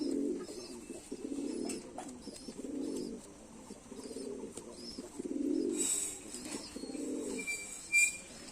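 A champion pigeon coos softly while held in the hand, repeated low rounded calls in a steady rhythm, close and moderately quiet, with faint rustling and a brief sharper sound near the end.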